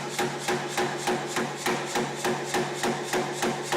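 Hammer blows taper a metal bar at the forge, a steady run of about fifteen evenly spaced ringing strikes with no talking over them.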